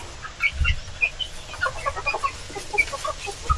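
Native farm chickens cluck and call in a quick scattered chorus at close range, several birds overlapping with short bursts and occasional low thumps of movement, with no voices.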